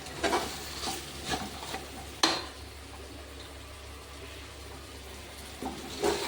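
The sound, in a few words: chili powder being sautéed in a pan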